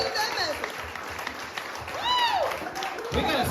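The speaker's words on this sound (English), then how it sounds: "everyone give yourselves a round of applause if you're in it to win it" Audience applause at a patriotic candidates event in Berlin, Connecticut, a steady wash of clapping from a crowd, with a voice talking over it.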